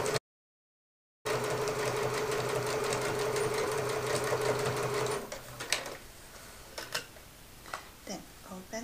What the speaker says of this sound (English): stitch all the way down that right hand edge